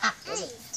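A duck gives a couple of short quacks near a pug, with a person talking over the calls.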